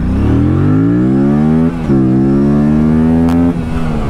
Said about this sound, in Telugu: సో దానివల్ల మీకు విజిల్ సౌండ్ కూడా వస్తుంది చూడండి